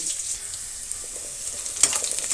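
Onions fry in a pan, a soft, continuous sizzle with a brief louder crackle near the end, heard close and fairly quiet with no talk.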